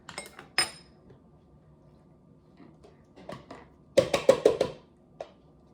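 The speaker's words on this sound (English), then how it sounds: "Go on and beat the egg up." Whisk or fork clinking against a bowl while an egg is beaten for homemade cornbread muffins, a few scattered taps then a quick burst of rapid ringing clinks, close and alone.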